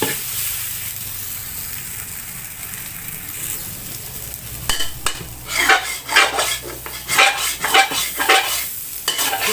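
Curry made with eggplant and beans is stirred in a pan over a sizzling fire. A utensil scrapes and clatters against the metal in quick, irregular strokes, close and loud, with no talking.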